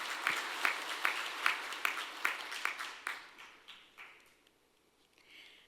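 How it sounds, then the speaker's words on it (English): Applause for Professor Kim Sung-woo at the 2025 Samsung Ho-Am Prize award ceremony, with evenly spaced, rhythmic claps that gradually fade and trail off within a few seconds. "big round of applause to Professor Kim Sung-woo"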